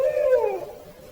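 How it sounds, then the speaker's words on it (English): One loud owl-like call rings out at night in the woods, a close, wavering hoot that falls in pitch and then fades into quiet. "I have a conversation with a very loud, quote-unquote, owl"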